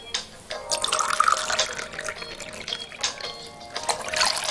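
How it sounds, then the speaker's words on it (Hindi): Water poured from a measuring cup into a bowl of orange juice for orange lolly mix, a close, steady trickling splash lasting a few seconds with slight surges. "उसी कप से मेजर करके 3 कप पानी इसमें ऐड कर देंगे"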